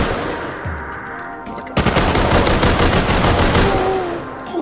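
Python revolver and other gunfire in the survival game Rust: loud, dense bursts of rapid shots rattling continuously, starting abruptly after a quieter opening with game ambience.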